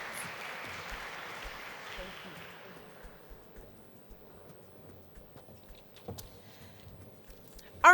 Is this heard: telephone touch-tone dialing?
no